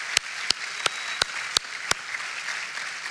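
Audience applause for a student speaker at an NC State homecoming event, heard as a handful of sharp, evenly spaced claps over a soft hiss of room noise.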